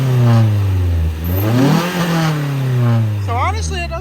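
Four-cylinder engine of a 2015 Scion tC revving in quick throttle blips, the pitch rising and falling twice at close range, with a voice talking over the second blip near the end.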